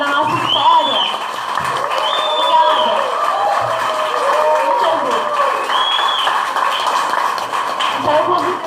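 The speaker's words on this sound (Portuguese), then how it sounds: "Só porque eu não resisto, gente, mais uma salva de palmas" Audience applause at an evening political event with a Black state deputy, sustained clapping and cheering from a large crowd with voices mixed in, loud and steady throughout.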